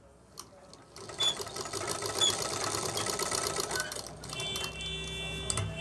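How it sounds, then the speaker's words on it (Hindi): A sewing machine stitches closely around a cut in cloth for darning, running steadily and close by with a rapid mechanical rhythm for most of the clip after a brief quiet start. "मैं चारों तरफ से इसमें सिलाई लगाऊंगा बिल्कुल पास पास"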